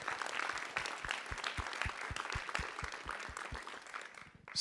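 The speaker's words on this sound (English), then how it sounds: "Let's give one more round of applause to all of the presenters from tonight." Audience clapping for presenters at a startup pitch competition stage, a fairly quiet, steady round of applause with distinct claps that fades out at the end.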